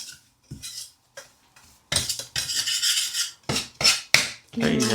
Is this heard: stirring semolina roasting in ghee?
yes